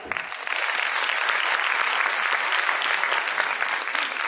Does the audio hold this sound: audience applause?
yes